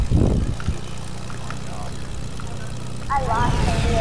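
Propeller airplane engine in a video game, a steady low droning hum running throughout beneath voices talking, with brief louder bursts at the start and end.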